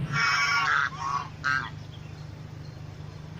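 A goose honks loudly twice in quick succession, the first call long and harsh, the second shorter, followed by a low steady hum with no talk.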